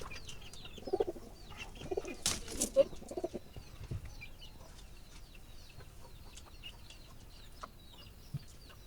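Pigeons coo softly among bird calls and a few wing flaps, with a louder flurry of fluttering early on and quieter cooing afterward.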